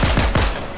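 Rapid video-game gunfire lands as a quick burst of about four sharp, loud shots in steady rhythm, close and dominant, then trails into a ringing tail.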